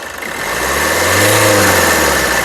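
A 2015 Maruti Suzuki S-Cross Sigma engine revs up from idle, the pitch rising and swelling to a loud sustained roar before easing slightly.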